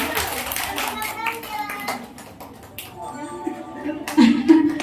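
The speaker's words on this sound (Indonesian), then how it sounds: "Kasih tepuk tangan dah. Mana tepuk tangannya?" Children and adults clap in applause at a children's church service with a birthday celebration, a scattered burst of claps mixed with talking and children's voices nearby.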